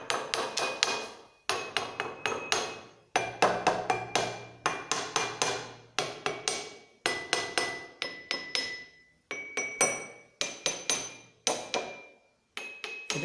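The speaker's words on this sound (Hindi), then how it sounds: "ये जल तरंग, क्या ये है? जल तरंग." Glasses of a jal tarang filled with different water levels struck one after another in quick, uneven runs of bright ringing taps, each tone decaying briefly, played close with short pauses between phrases.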